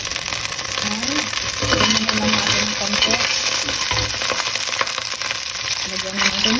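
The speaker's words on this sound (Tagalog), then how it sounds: "Tapos, ilalagay na natin tong ilang pirasong clams." Clams and ginger hit a hot pot for a Taiwanese-style soup, giving a loud, continuous sizzle with stirring scrapes and light clinks of shells.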